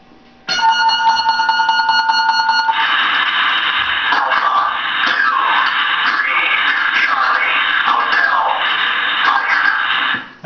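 A Titan missile launch control warning alarm gives a steady electronic tone for a couple of seconds, then turns into dense warbling, radio-like electronic bursts that continue loudly and harshly for about eight seconds before cutting off.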